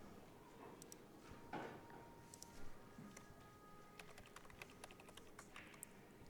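Rapid typing on a computer keyboard at a pool tournament scoring table, quick irregular clicks fairly close over a steady hum of room noise, with no talking.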